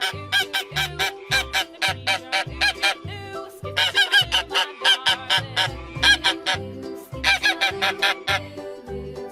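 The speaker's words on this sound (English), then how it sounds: "G-O-O-S-E. Goose." A farm goose honks in quick, loud repeated bursts, close and insistent, layered over a bouncy children's song rhythm.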